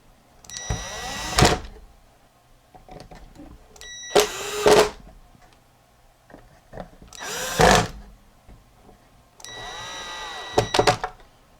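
A small electric screwdriver drives screws back in to remount the circuit board of a Longines Symphonette Slumber Center LCR500 AM/FM clock radio lamp, giving four separate whirring bursts of a couple of seconds each, close up with quiet handling between.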